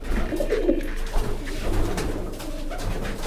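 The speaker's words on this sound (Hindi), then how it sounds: "ये गुलाबी पलकों के कबूतर।" Pigeons coo steadily in a breeding loft housing pink-eyelid and Mughal pigeons, their soft, low murmuring continuous and close, layered with faint rustling and distant bird calls.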